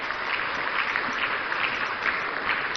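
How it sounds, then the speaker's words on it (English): Audience applause greets the opening of Ghana's National Economic Dialogue 2025, a steady even wash of clapping from a large hall crowd, moderately loud and sustained with no voices over it. "Another round of applause, ladies and gentlemen."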